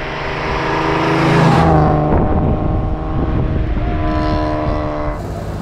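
A 1939 BMW 327/28 Sport-Kabriolett with its six-cylinder engine drives past close and loud, the engine note swelling, dropping at a gear change, then droning steadily with a clear harmonic hum.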